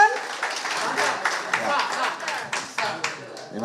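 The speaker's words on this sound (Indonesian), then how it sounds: "Beri tepuk tangan lagi Bapak Ibu sekalian." Applause and clapping from an audience at an Indonesian chamber of commerce forum with the justice minister, a steady patter of many hands over several seconds while a voice speaks over it.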